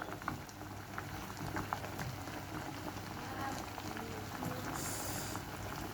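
A pot of water at a steady rolling boil with sweet corn being cooked, giving a dense, continuous bubbling and patter at moderate level, with a brief brighter hiss near the end.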